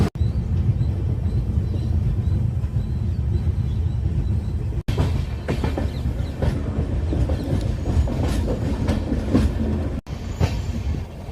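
Passenger train on the Mysuru to Hassan line running steadily, a continuous loud rumble of wheels and carriage noise with occasional clicks over rail joints, heard from on board.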